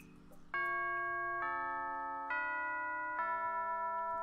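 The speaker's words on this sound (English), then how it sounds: "There's the bell! Class is over." School bell in a video game signalling the end of class: four sustained, ringing chime tones in a descending sequence, each struck clearly and left to ring, loud and alone.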